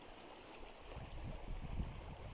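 Cold river water flows and laps around a canoe, a steady wash with soft low knocks and splashes growing a little stronger toward the end; no one speaks.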